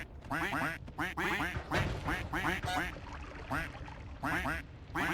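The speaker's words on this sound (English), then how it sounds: "Fire the quack cannon." Rapid bursts of cartoonish duck quacks from the quack cannon in the video game Noita, loud and repeated in clusters and mixed with game sounds, no talking.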